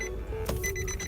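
A 2010 Nissan Titan gives an electronic chime when its ignition is switched on, a steady tonal ding lasting about a second against faint background hum.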